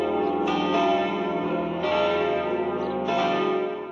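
Church bells ring at an outdoor Hungarian Culture Day ceremony in Zenta, loud and resonant, with several strokes about every one to one and a half seconds over a sustained humming ring.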